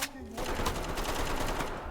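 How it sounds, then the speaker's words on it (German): Video game gunfire crackles in a dense, rapid automatic burst, loud and close, rattling on continuously for a couple of seconds. "Hast du gerade geschossen?"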